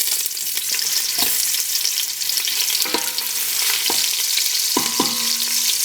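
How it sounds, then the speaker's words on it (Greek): Chopped onion sizzles in melted butter in a pot for a soup, a continuous close frying hiss broken by several sharp clinks of a utensil stirring against the pot. "Αφού κάψει το βούτυρο θα ρίξουμε μέσα το κρεμμύδι."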